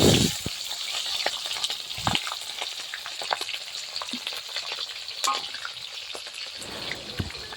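Chopped onion and green chilli frying in hot oil in a wok, a close, steady sizzle broken by scraping stirs and a brief hissing burst when the ingredients go in.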